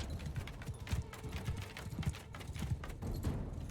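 Horses galloping across a Bannerlord video game battlefield, a steady rapid clip-clop of many hooves pounding continuously at close range, with no talk over it.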